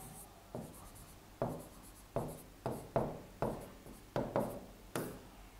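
Chalk or marker strokes on a board during a pericyclic reactions chemistry lecture, about nine crisp, evenly spaced scrapes, each sharp at the onset and fading quickly, with no talking.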